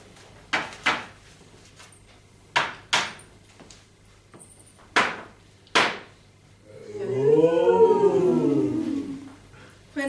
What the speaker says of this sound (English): When tapping on that door just then